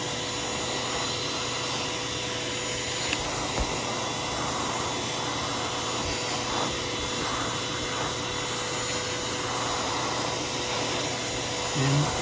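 A vacuum cleaner fitted with a soft horse hair dusting brush attachment runs steadily while cleaning dust off a statue, a continuous mid-level whooshing hum with faint brush rustles and no speech.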